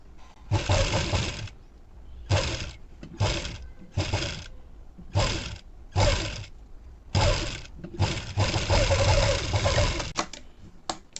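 Sewing machine stitching blouse fabric, running in repeated bursts of close, steady whirring broken by short pauses, loud and without talk.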